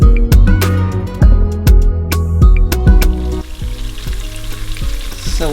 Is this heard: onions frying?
yes